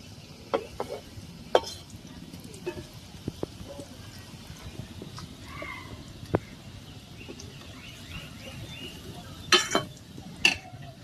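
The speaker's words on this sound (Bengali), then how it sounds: "বন্ধুরা হালকা জালে এটাকে ভেজে নিতে হবে" French fries frying gently in oil over low heat, a soft low sizzle running throughout with occasional clinks and taps of a utensil.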